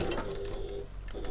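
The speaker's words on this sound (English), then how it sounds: "we're going to sew up this final line up to the top, and I'm going to back stitch" Home sewing machine back stitching along a backpack seam, a steady close mechanical whir with faint rhythmic clatter running throughout, no voices.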